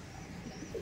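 Soft low cooing from Madrasi pigeons, a faint, steady murmur of calls at close range with no talking.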